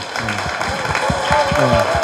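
A studio audience at a Korean political talk show applauds, the steady clapping running through the whole moment and mixed with a voice speaking over it.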